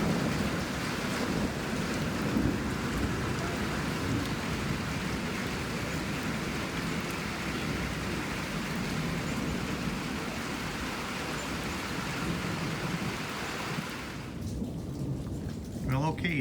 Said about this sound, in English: Lots of thunder to the south as that line comes across the state